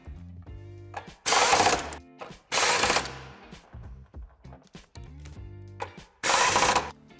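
A tool drives the screws back into the mounting points while a tow hitch is fitted to a 2007-2016 Volkswagen Tiguan, heard as three loud, roughly one-second bursts separated by quieter mechanical and tonal sounds.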